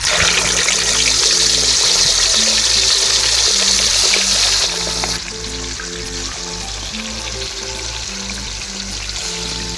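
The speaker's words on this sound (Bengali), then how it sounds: "তেল গরম হয়ে গেছে, এবার মাছগুলো ভেজে নেব।" Katla fish pieces frying in hot oil, a loud, dense, continuous sizzle close by that drops somewhat in intensity partway through.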